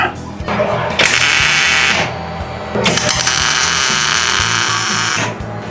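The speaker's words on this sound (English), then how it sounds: "Should probably tighten this bolt right quick so we can get this thing held up there straight." On a 1948 GMC pickup truck, a power tool drives a bolt tight in two loud, whirring bursts close by, with a short pause between them and a low background hum.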